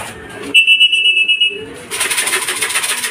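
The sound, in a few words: racing pigeon arriving at the loft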